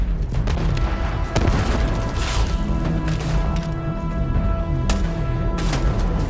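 Loud, constant gunfire and explosions from combat in the video game Starfield, with booming shots and rapid bursts overlapping without pause.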